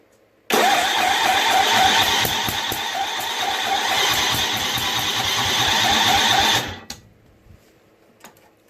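A Tecumseh 6HP engine on a Snapper 25066S riding lawn mower, its choke stuck open, starts suddenly and runs loud and close with a fast rhythmic chug for about six seconds, then cuts off abruptly, leaving a few faint clicks.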